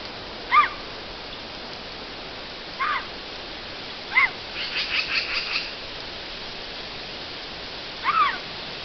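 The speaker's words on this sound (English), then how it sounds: "chirping mountain lion kittens" Mountain lion kittens with their mother give high, thin chirps outdoors: a few separate calls spaced seconds apart, plus one quick fluttering run of chirps in the middle, all fairly faint over a quiet hiss.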